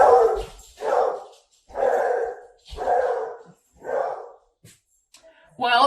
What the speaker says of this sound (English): he's a beagle